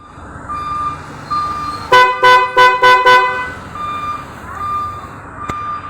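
A vehicle horn rigged with a Domino Honeywell switch honks in four quick loud blasts close by, with steady signal or hazard ticking tones before and after.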